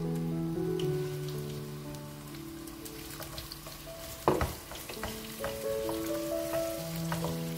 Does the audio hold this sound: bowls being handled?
no